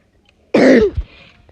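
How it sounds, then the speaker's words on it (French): One person gives a single close, loud throaty cough that trails into a rough clearing sound. "Voilà le tuto comment tousser."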